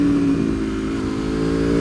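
An Aprilia Tuono motorcycle fitted with a lightweight chain and sprockets, its engine revving loudly and steadily up close in a brief burst, with no voices over it.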